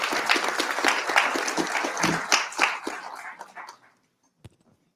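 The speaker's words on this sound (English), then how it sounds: "Big round of applause." An audience at a live stage event gives loud, dense applause for the next speaker. It holds steady for several seconds, then tapers off around the fourth second, leaving silence broken by one last lone clap.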